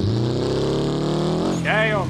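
Rally car engine in the BeamNG Drive video game, a steady, droning rev with strong engine harmonics that climbs briefly near the end, while a voice talks over it.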